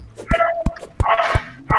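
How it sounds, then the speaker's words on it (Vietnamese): A dog next door barks sharply in quick bursts, about five loud yaps within two seconds, with whimpering yips between them. "nhà chó sủa kinh nhá"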